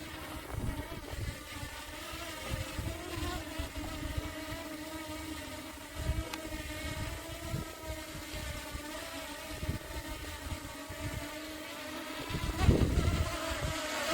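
DJI Mini 4K drone propellers whirring steadily as it comes in to land on a very windy day in Wellington, a continuous buzzing hum with wind noise, alone and fairly faint.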